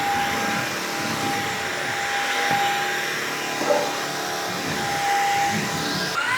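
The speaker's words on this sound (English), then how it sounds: "Both of these vacuums will vacuum right underneath stuff like this." A Levoit cordless stick vacuum cleaner, LVAC-200 or LVAC-300 model, runs with a steady close motor whine and airflow hiss, holding an even level throughout with no talking.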